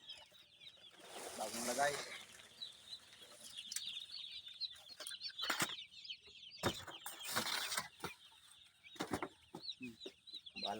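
Chicks being put into a newly built cage on a farm: repeated close peeping and clucking mixed with rustling and clattering of the cage, with a brief spoken voice.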